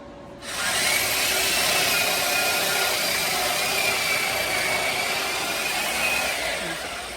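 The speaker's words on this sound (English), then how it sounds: "I'm drilling the hole for the dryer vent." A power drill bores through a wall to make a hole for a dryer vent, starting after a brief quiet moment and running as a loud, steady, high whine with constant grinding for about seven seconds.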